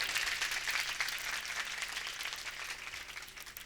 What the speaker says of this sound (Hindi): एक बार व्यास जी के लिए जोर से तालियां बजा दो।